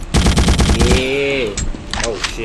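Rapid automatic gunfire in the horror video game The Suffering 2, a loud, close burst of evenly spaced shots lasting about a second, followed by tonal game sounds and scattered effects.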